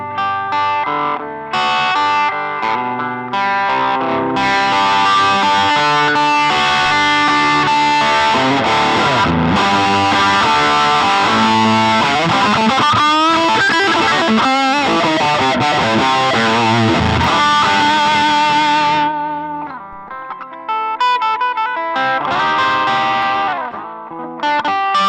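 Electric guitar through a Vox Valvetronix VTX150 Pro amp, an expression pedal sweeping the gain on the amp model, distorted chords and riffs with chorus and echo that swell and recede, a sustained passage with a brief dip near the end.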